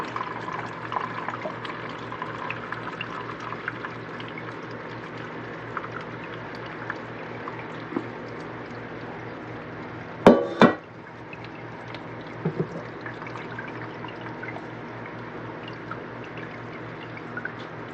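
Cucumber pickle liquid being poured off into a container, a steady soft liquid trickle running throughout, with a brief clatter near the middle.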